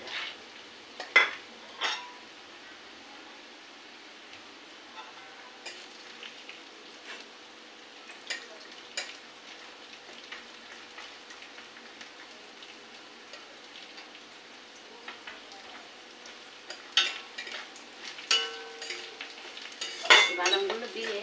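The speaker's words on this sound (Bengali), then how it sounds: "বাদামগুলো যতক্ষণ ভাজা না হচ্ছে ততক্ষণ আমি বাদামগুলো ভাজা করে নেব" Peanuts fry with onions in a pan and crackle in a steady, soft sizzle, with occasional scrapes and clinks of stirring that grow busier toward the end. No one speaks.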